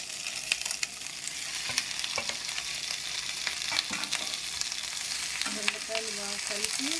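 Ivy gourds (dondakaya) frying in a pan with onions and garlic, a steady close sizzle with small crackles and occasional stirring clinks, with no talking.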